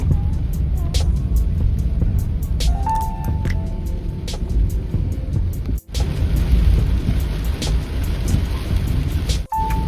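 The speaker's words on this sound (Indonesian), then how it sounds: "Kalau udah kondisi hujan deras dan kondisi malam hari gini" Heavy rain pounding a Daihatsu Ayla 1.2 at night on a road trip between Medan and Pekanbaru, a dense steady roar over low engine and road rumble, with brief chimes and clicks inside the car.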